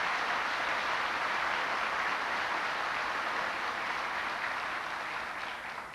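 A crowd applauds steadily, a dense, even clatter of many hands clapping that holds for several seconds before slightly fading.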